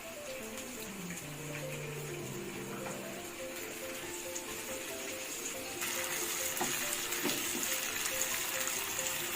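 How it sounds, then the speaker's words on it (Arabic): Onions and colored peppers fry in a pan while being stirred, a steady close sizzle with scraping stir sounds throughout, growing slightly louder partway through. "هبدا اقلب كده يا جماعه البصله مع الفلفل الالوان"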